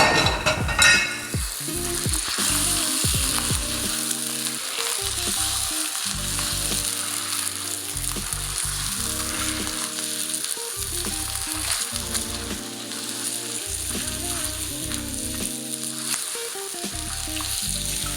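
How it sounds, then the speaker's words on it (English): Prawns sizzling and frying in a hot pan, a loud continuous crackling hiss with occasional stirring scrapes and sharper spatters at the start. "So I'm going to go in with the prawns first because they're a little tougher."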